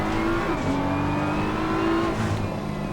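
A race car at the Nurburgring in Assetto Corsa Competizione roars loudly and continuously as it accelerates, its engine pitch climbing with a brief shift partway through, heard alone without talk.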